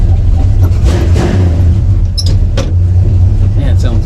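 A 1955 station wagon, freshly fitted with disc brakes, drives around a yard, its engine a steady low rumble close by, with brief higher mechanical squeaks and someone talking over it.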